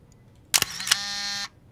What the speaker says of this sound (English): So you can see that the shutter actually does fire.